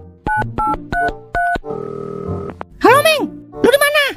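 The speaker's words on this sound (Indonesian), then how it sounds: "Telepon Cimeng dulu kali aja dia ada saldo nganggur." Telephone keypad dialing tones in a comedy film scene, four distinct beeps in quick succession, loud and close, followed by a ringback buzz and then talking voices.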